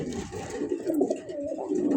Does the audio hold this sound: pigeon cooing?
yes